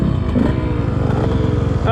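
Motorbike engine under load climbing a sand dune, a loud, close, steady throbbing drone with rapid pulsing and some clatter, going on without a break for about two seconds.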